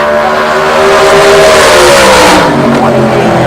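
A loud, roaring heavy street class drag racing car accelerates hard at the 2008 Shakedown E-Town event, its engine pitch rising steadily as it speeds away, very close and dominant.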